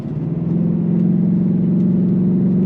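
A 2024 Ford Mustang GT California Special engine revving on throttle, a loud, deep, sustained V8 roar that rises quickly and then holds a steady growl close by.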